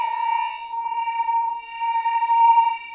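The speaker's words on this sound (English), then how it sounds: "So we've got a chorus. You've got 2 modes of chorus as well." Sustained synth tone from the Quanta 2 synth app by Audio Damage on iPad with chorus effect applied, a steady bright note with shimmering, slowly wavering overtones, clean and alone.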